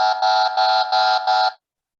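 An app-generated buzzer horn gives five quick, evenly spaced electronic honks, loud and harsh, then cuts off into silence.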